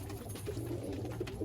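Fulshira pigeons coo softly in a loft, low throaty calls repeating over a short stretch, close by with no talk.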